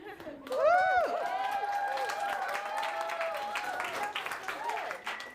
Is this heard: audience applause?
yes